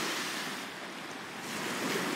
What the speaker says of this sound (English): don't get in trouble in the waves of Dimitris here